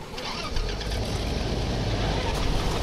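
Several race car engines firing up together, a dense, loud, continuous roar that swells sharply after a short moment and holds steady throughout.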